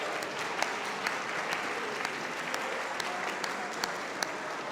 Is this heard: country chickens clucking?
no